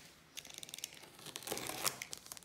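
A diamond painting parcel is unpacked at close range, with crinkling plastic and paper, quick rustles and a brief tearing burst, faint and irregular with no voices.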